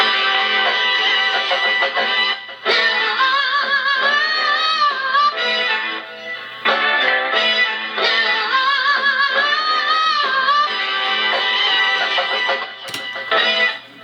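A looping old-school hip hop beat built from a chopped, pitched vinyl sample of a 1970s song, with melodic phrases repeating in sections and brief cuts between loops, loud and without talking.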